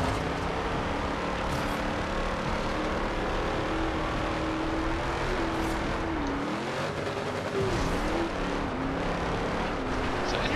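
A car engine in Forza Horizon 2 runs steadily at high revs, its pitch dipping and climbing through downshifts and upshifts midway, loud and continuous with no talk over it.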